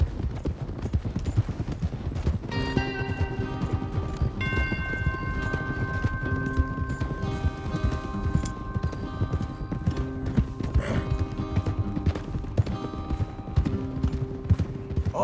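Horses galloping in the video game Red Dead Redemption 2, a steady run of clip-clop hoofbeats throughout, layered with game music and ambience and a brief whinny.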